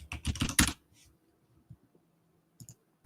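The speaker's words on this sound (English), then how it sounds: "I was beating that keyboard, bruh." A computer keyboard struck hard in a fast, loud burst of clattering keystrokes, then a few sparse isolated clicks after a pause, close to the listener.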